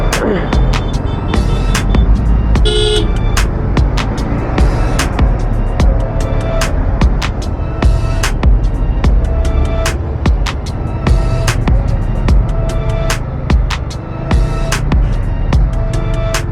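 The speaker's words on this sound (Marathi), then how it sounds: "ट्रॉफिक केवढी आहे बा" Heavy road traffic in a long jam on an Indian highway: a steady, loud engine and road roar with scattered knocks and rattles, and a brief car horn blast near the start plus a few short horn-like tones later.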